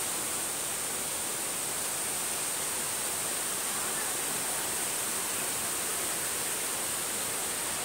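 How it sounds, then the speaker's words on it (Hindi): Heavy rain pouring down outdoors, a dense, constant hiss of falling water with no breaks, steady and fairly loud across the whole stretch. "क्योंकि बहुत ज्यादा बारिश आने लगी इस साइड।"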